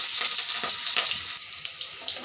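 Chopped onions and dried red chillies fry in hot oil for a pea ghugni, producing a loud, close, bright sizzle that is dense at first, then thins into crackles and small pops, with no talking.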